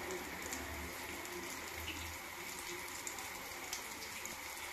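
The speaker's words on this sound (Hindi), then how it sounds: "मीडियम फ्लेम पे हम इसे फ्राई कर रहे हैं।" Potato samosa rolls frying in hot oil over a medium flame, a continuous soft sizzle and crackle with faint pops, close and quiet, no talking.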